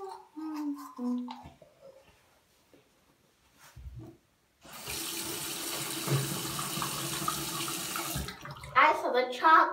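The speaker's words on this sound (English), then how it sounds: "Washing my hair." Water runs steadily from a tap for several seconds while someone washes their hair, loud and close, with a voice talking before and after.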